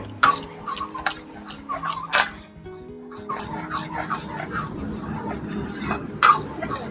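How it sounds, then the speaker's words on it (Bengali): Semolina stirred continuously in a pan, dry rhythmic scraping and rubbing strokes close up, with sharp knocks of the spoon against the pan and a brief pause midway. "সুজিটা দেওয়ার পর অনবরত নাড়তে হবে"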